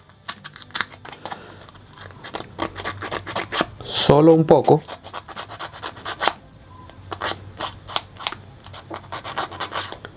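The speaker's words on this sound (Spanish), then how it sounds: "así que vamos a lijar un poco." A rib from a Dimorphodon 3D model kit is sanded with rapid rasping back-and-forth strokes, close and steady. A short spoken phrase cuts in midway, and then the scraping resumes.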